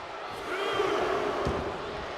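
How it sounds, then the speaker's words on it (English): Crowd at a wrestling event cheering, a broad, steady roar of many voices that swells slightly and holds throughout, heard at a distance with a faint thump midway. "You can hear the crowd getting behind Brent Oakley here"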